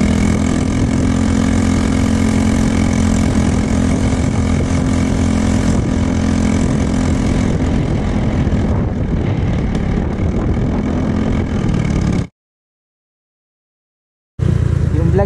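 Vehicle engine running during a sound test, a loud steady droning hum with a continuous low rumble, held for about twelve seconds, then a brief gap of silence before it resumes.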